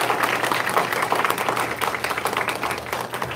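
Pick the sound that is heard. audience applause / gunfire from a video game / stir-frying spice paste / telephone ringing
audience applause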